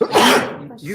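A single sharp sneeze bursts out close by in a courtroom during a murder trial, forceful and brief, trailing off with a faint voice.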